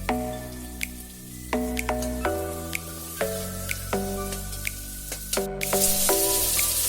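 Onion and garlic dropped into hot oil, cooking for a goat head fry, giving a steady close sizzle punctuated by repeated drip-like pops and crackles.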